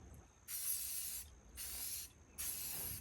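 A spray can sprays primer onto the bumper of a 1966 International Harvester, heard as three close, loud hissing bursts with short quiet gaps between them.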